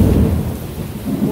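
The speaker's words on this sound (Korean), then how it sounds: "비가 엄청 쏟아지고 있어요." Heavy late-summer rain pours down hard with thunder, a loud dense low roar that swells and fades slightly across the brief moment.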